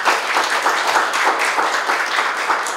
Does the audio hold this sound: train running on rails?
no